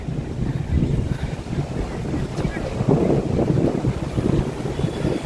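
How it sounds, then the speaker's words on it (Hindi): Steady wind buffeting and rushing past the microphone above the Ganges at Haridwar, a continuous low roar that swells and eases, with faint water movement underneath. "हवा की आवाज़ आ रही होगी।"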